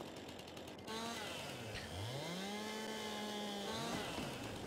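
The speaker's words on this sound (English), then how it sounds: "so let's just get to it with the chainsaw" A chainsaw cuts nuisance trees in Farming Simulator 22, its engine revving up and down in whining, pitch-shifting sweeps, loud and continuous.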